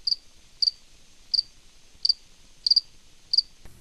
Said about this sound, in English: Think of a cricket chirping